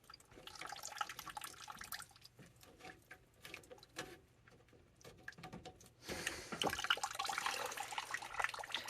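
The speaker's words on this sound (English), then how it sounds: "You want to take your hoses off and let it continue to drain." Water draining from hoses detached from a tankless hot water heater after a vinegar flush, a steady faint trickle and dripping that grows louder and splashier toward the end, with no talk.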